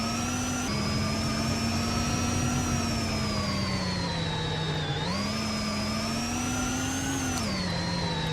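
Formula E electric race cars on their in laps at the Monaco ePrix emit a loud, continuous high-pitched whine that sweeps down and back up as they slow and accelerate, with no talk over it.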